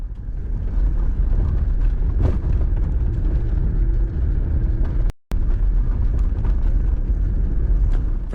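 A Jeep Gladiator with a long wheelbase drives a desert track on a convoy route, giving a steady close engine and tire rumble with road roar throughout and one brief dropout just past the midpoint.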